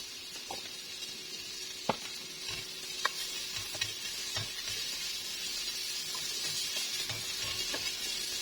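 Food sizzles and fries steadily in a cooking pot, browning before salt and pepper go in, with a soft continuous crackle and a few sharp pops and ticks, close and moderately quiet.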